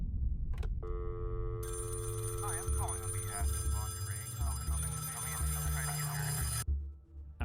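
A telephone rings steadily with a bright electronic warble, voices murmuring softly underneath before the ringing cuts off near the end.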